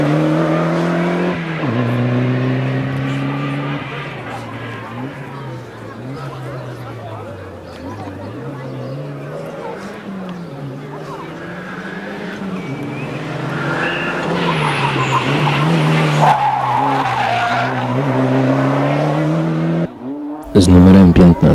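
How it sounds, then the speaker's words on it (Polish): Ford Escort Cosworth rally car at the 1996 Rally Poland, engine revving and shifting through gears at close range with tyre noise, while a commentator talks over it. "Włoska załoga Sergio Trevisan i Lucio Baggio jadą samochodem Ford Escort Cosworth."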